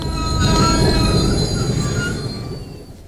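A passing train's wheels squeal loudly against the rails, close and sustained with rumbling underneath, then fade toward the end with no talk.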